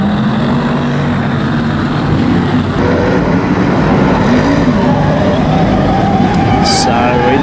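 BriSCA F2 stock cars race on a shale oval at Kings Lynn in the World of Shale meeting, a loud continuous engine roar filling the scene over the last lap while a commentator talks over it.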